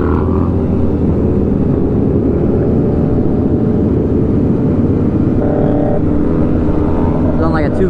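A two-stroke 250 motorcycle engine drones steadily and loudly throughout, close by, with a brief rising rev near the end and a voice speaking over it.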